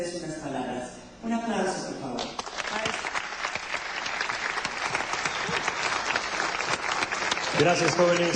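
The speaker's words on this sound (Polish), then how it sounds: "Proszę o oklaski." Audience applauding at a school year-end ceremony at Elite Way School as the director is called to the stage. A burst of loud, sustained clapping follows brief talk and fades as a voice resumes at the end.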